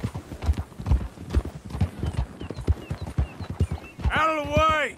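Hooves of a galloping horse clip-clop in a fast, steady rhythm in Red Dead Redemption 2, close and prominent, ending with a loud neigh.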